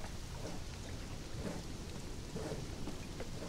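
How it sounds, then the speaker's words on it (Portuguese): Rain and rolling thunder at night in the survival video game Conan Exiles, a continuous low, quiet rumble under a steady hiss of rain, with a few swells along the way. "Ah, ó, trovejando ainda, amigo"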